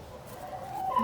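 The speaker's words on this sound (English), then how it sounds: "There's another black chicken." Chickens in a backyard, one black hen among them, giving a short rising cluck or call nearby, with no voices over it.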